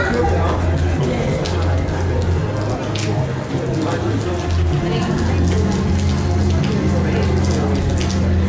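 Steady rain patters outdoors at a classic motorcycle show under a continuous low hum, with a person talking over it throughout.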